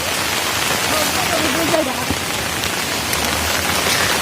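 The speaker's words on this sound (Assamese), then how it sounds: "পুৰা বৰষুণ দি আছে" Heavy rain pours down outdoors on a cold day, a dense, steady hiss of drops on surfaces close by, with a voice speaking faintly underneath.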